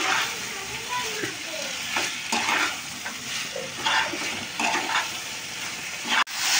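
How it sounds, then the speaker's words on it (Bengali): Pre-fried brinjal being stirred into a curry in a hot pan, with steady sizzling broken by repeated bursts of stirring and scraping and a sharp knock near the end. "আগে থেকে ভেজে রাখা বেগুনটা এবার আমি এর সঙ্গে দিয়ে দিচ্ছি, দিয়ে আমি ভালো করে কষিয়ে নেব"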